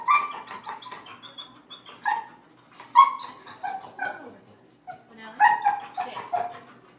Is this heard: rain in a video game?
no